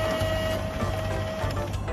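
An old fuel pump machine at a Japanese filling station prints a receipt with a quick, steady mechanical chatter, repeating in a regular pattern for about two seconds.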